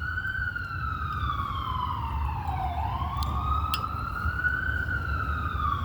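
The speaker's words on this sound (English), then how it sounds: "when ambulances come by, like, during these moments, I feel like that's like confirmation." A wailing emergency siren, likely an ambulance, sweeps steadily up and down through a long rising and falling cycle as the vehicle passes, loud and continuous over a constant rumble of traffic.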